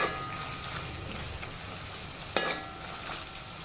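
A masala of tomato and onion simmers in a pan with a steady soft bubbling sizzle, broken by one sharp clink or stir near the middle, no talking.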